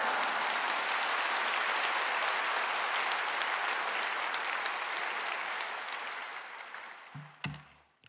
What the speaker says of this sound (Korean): 박수로 목사님 맞이하시겠습니다